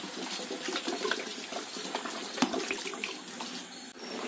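Water is poured over country chicken meat in a cooking pot on a wood-fired village stove, a faint steady splashing and trickling pour lasting several seconds.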